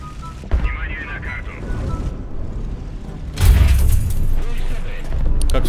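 A heavy tank cannon blast in the video game War Thunder booms loudly midway through, followed by sustained rumbling and mechanical engine noise, with a sharper crack earlier on.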